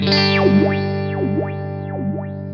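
A buzzy sine-wave synth tone through an envelope filter pedal, sweeping up and down in slow, repeating wah-like swoops, about three cycles, steady and loud.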